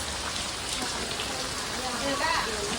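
Steady, dense hiss of wind-driven rain pouring down throughout, with a voice faintly audible underneath.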